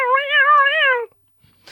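A man imitates a cat with a single drawn-out, wavering meow that lasts about a second and sounds close and loud, then falls silent.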